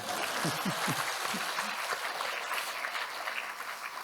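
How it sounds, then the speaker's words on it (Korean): A large crowd of about 771 people claps at a public bell-striking survey event for the Seongdeok Daewang Sinjong bell. The applause is soft and distant, with a few voices briefly audible at the start. "박수 한번 안 치십니까?"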